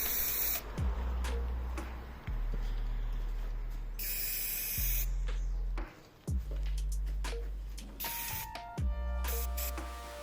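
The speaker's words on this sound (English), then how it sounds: "So I went the classic way of spraying." A coating sprayed onto a stainless steel part gives loud, repeated hissing bursts in short on-off passes over about ten seconds, with a low hum underneath.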